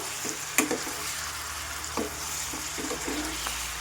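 Chicken livers cooking in a curry pan, a continuous moderate sizzle with occasional spoon scrapes and stirring knocks, no voices.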